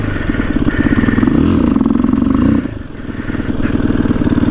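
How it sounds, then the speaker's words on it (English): A motorcycle engine revs hard during a wheelie attempt, loud and close, with a pulsing, throbbing exhaust note that rises, dips briefly, then climbs again. "Let's see if I can do a wheelie still."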